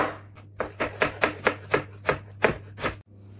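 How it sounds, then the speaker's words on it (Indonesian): Thin knife strokes slice through unpeeled, washed ginger on a board, about ten crisp evenly spaced cuts in a steady rhythm, close and clear, over a faint constant hum. "Nah ini jahenya cukup dicuci bersih aja ya, ini tidak perlu dikupas juga, langsung diiris aja,"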